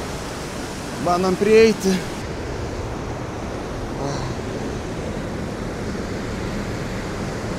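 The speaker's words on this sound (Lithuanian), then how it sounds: "Čia va, matau, sekantis krioklys yra" A waterfall gives a steady, broad roar of rushing water close by that fills the whole stretch, with someone speaking briefly over it near the start.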